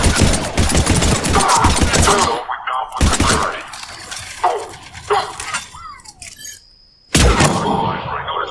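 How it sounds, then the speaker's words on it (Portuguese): Gunfire in Mass Effect 3, with rapid bursts of automatic shots and sharp single cracks, separated by short lulls with game effects. The shooting is loud and close, and a burst returns at the end. "Quem que vocês estão atirando?"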